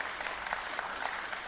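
Steady applause from a snooker crowd after a left-handed shot, a dense even patter of clapping with no voices.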